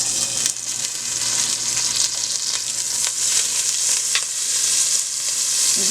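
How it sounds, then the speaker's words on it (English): Steady, bright sizzling of about a tablespoon of butter melting in a hot pan on a stove, continuous and close, with faint stirring scrapes and no talking. "And to that I will add about a tablespoon of butter"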